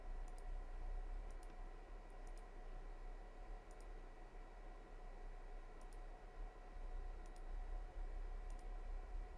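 Computer mouse clicks while deleting disk partitions during a Windows Server 2022 install, sparse faint paired clicks spaced about a second or two apart over a low steady hum.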